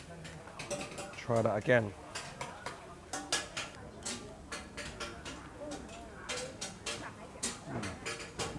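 Street food at a Bangkok morning market is tossed with chili vinegar and ground chili, giving repeated close clinks and scrapes of utensils against a dish, with a voice speaking briefly amid the stirring.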